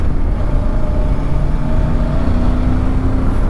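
A VOGE 625 DSX motorcycle engine hums steadily while riding on small mountain roads, a continuous low, even drone with rushing wind noise and no talking.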